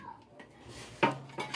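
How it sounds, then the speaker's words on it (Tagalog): A plate pulled from a pile of dishes in a cluttered home kitchen, with soft scraping at first, then a sharp ceramic clatter and ringing clinks of plates and cutlery knocking together, close and fairly loud. "Kuha lang tayo ng pinggan."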